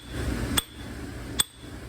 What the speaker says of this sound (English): Let's see if we can hear it just with a regular chisel, a big chisel.